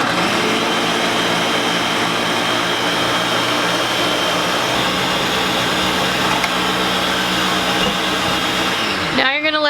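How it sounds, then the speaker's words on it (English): A steady, loud mechanical whir of a blender motor running continuously on low while hot milk is incorporated into a chocolate pots de crème mixture, stopping at the very end. "turn your blender down to low, and then we're going to slowly incorporate this hot milk into the blender"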